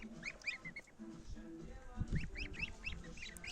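A flock of white Linda-breed geese honking and chattering repeatedly at moderate distance, with low rustling background sounds.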